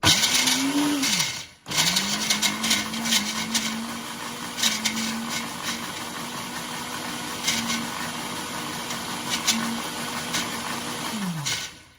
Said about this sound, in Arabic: هضربهم في الخلاط الاول كده.